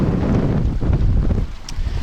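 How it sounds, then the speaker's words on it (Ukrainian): Heavy wind buffets the microphone on seaside rocks in Odesa during mullet fishing, a constant low roar with gusty swells and no voices, loud and close throughout. "вітер, не можу говорити"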